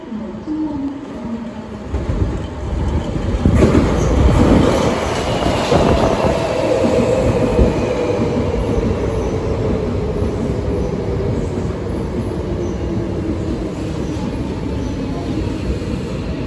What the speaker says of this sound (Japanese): まもなく2号線に大阪梅田方面に電車に到着します。